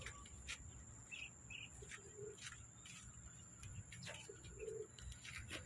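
Pigeons coo softly in short low bursts amid faint chirps from other birds and a high steady insect-like tone, all quiet and somewhat distant.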